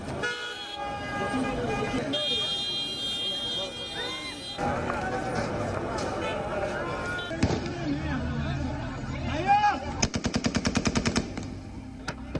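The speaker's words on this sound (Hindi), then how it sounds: "इतवार को काबुल एयरपोर्ट पर फायरिंग।" Gunfire at Kabul airport, fired by American troops to scatter a crowd: rapid bursts and single shots amid crowd noise and a car horn, with a sharp regular volley near the end.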